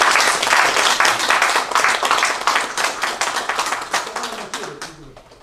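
An audience at a Presbyterian presbytery licensing ceremony for a preacher breaks into full applause, dense and steady throughout, tapering slightly with a few low voices murmuring underneath toward the end.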